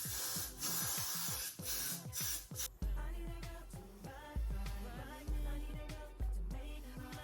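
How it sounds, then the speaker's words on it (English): Several short hissing bursts of Got2b hairspray sprayed onto hair sound close by, followed by soft rubbing and background music. "I'm actually gonna spray it with my Got2b first."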